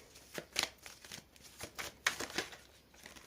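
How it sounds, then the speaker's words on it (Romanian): Tarot cards are shuffled in a few quick riffling bursts, close and fairly quiet, with short pauses between passes. "Mai amestec puțin cărțile, deși am făcut-o și înainte de filmare."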